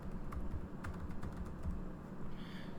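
Steady typing on a computer keyboard, a dense run of light keystrokes close by with no pauses and no voices.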